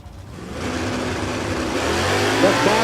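An S197 Mustang and a 1968 first-gen Camaro launch side by side at a drag race, engines roaring steadily and building in pitch, loud and continuous over a few seconds.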